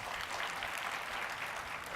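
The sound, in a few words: audience applause for Cheryl Snyder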